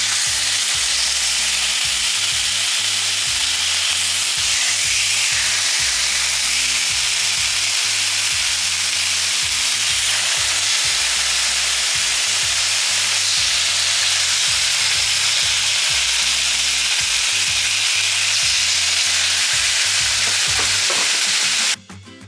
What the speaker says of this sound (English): I'm gonna go ahead and let this sear off for a little bit